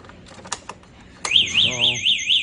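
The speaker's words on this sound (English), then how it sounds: "Now your alarm will go off." A few sharp clicks, then a loud car alarm bursts on, wailing in a steady rising-and-falling electronic pattern.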